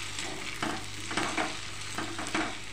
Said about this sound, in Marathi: आता आपल्याला हे छान असं मिक्स करून घ्यायचं आहे.